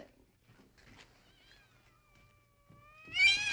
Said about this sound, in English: For goodness sake, Lucy, you better do something about those cats. Sounds like somebody put a hex on them.